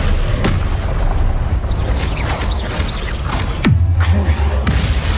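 A loud, booming fire spell blast from the video game Hogwarts Legacy, heavy low-end bursts over constant game ambience, with a second big impact a few seconds later.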